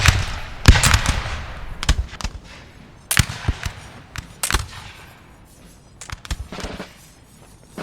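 Musket volleys from line infantry in Napoleon: Total War, a multiplayer battle with French line infantry firing on Jaegers, heard as a series of sharp, cracking shots in scattered bursts, some close and loud, others fainter and overlapping.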